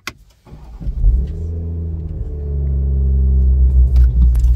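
A Toyota GR sports car at a 2024 press event starts up before going out on a track: a click, then the engine catches and settles into a deep, loud idle rumble that grows steadily fuller.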